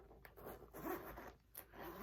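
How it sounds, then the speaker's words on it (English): Zipper pulled along an all-leather bag using one hand, a close, quick run of scratchy ripping strokes with brief pauses between pulls. "You could zip and unzip this bag with one hand."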